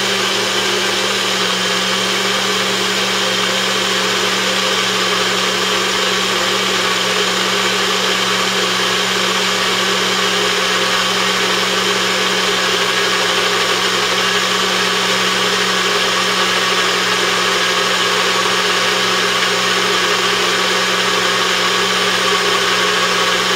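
A Nutribullet blender runs continuously with a steady motor whine and buzzing hum, unchanging and moderately loud throughout with no talk over it.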